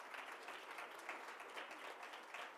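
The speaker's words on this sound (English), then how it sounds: "Let's give him another round of applause." Steady applause from an audience at a Black History Month celebration, a dense wash of many hands clapping evenly throughout without a break.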